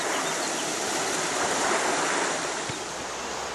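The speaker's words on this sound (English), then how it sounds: "Bit brown the water. It's coming off the moors and the peat bogs." Brown, peaty water runs off the moors in a stream, rushing steadily and close by. A broad, continuous wash of flowing water fills the whole stretch with no talking.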